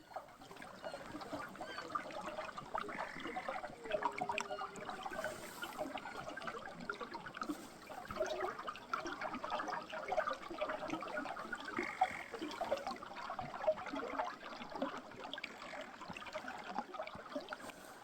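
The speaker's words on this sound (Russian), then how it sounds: "И вода булькает." Water gurgles and trickles steadily in a taiga river in winter, a soft continuous babble with faint bird calls in the background and no talking.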